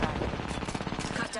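Rapid automatic gunfire in the Apex video game, a fast, steady stream of close shots lasting the whole moment, with game chatter faintly underneath.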